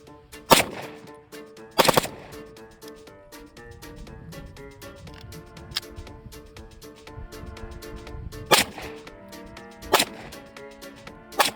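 A PSA Dagger pistol fires a few loud, sharp shots spaced irregularly across the stretch, with faint handling and mechanical noise between them; no one speaks.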